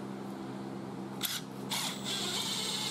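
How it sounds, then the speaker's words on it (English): A power drill pre-drilling a hole in a larch tongue and groove cladding board on an old door, with short bursts of close, high whirring that start after a quiet moment and then run steadily. "So what I'm going to do is I can go to a mark there, so pre-drill"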